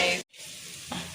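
Onion fries in a pan with a steady close sizzle, broken by a brief silent gap before the hiss resumes and briefly swells.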